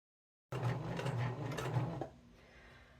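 After a moment of silence, a sewing machine stitches around a heart-shaped coaster in a quick, even whirring burst for about a second and a half, then slows and stops, leaving a faint motor hum.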